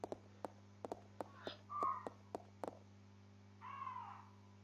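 A crow in Resident Evil 0 gives a few harsh, drawn-out caws amid a series of sharp, regular clicks over a low steady hum, all fairly faint.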